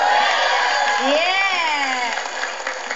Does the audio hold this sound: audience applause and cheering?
yes